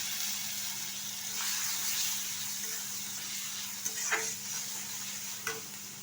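Cleaned, cut eggplant fries in oil in a wok with a steady, loud sizzle and hiss throughout, broken by a few brief scraping stirs.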